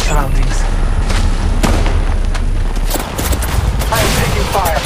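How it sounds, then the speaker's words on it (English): Heavy firefight in Apex Legends Mobile, with rapid gunfire bursts and booming impacts packed into a loud, constant barrage, while a voice speaks over the shooting. "I am taking fire"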